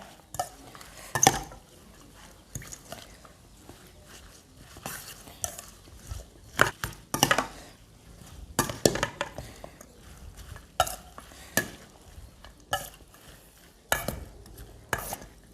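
Mama instant noodle salad with bologna, crab sticks and chili being tossed and mixed in a bowl, giving repeated sharp clinks and scraping knocks in an irregular rhythm, close and fairly loud with no talking.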